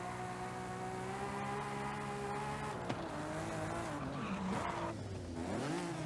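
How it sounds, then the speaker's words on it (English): A black Toyota Supra races through the living desert in Forza Horizon 5, its engine droning steadily with layered harmonics, then the revs dip and rise again through gear changes and turns, with a brief tyre squeal. "This one's a Supra tearing it through the living desert."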